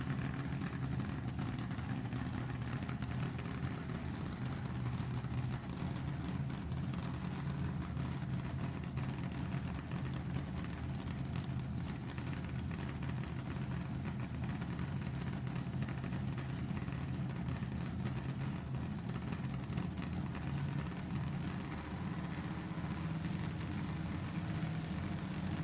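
A supercharged nostalgia drag race car at an NHRA nostalgia event roars in a continuous, dense engine drone that holds steady for the whole stretch, heard from a distance with no voices.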